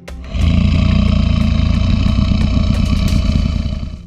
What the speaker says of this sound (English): Alligator.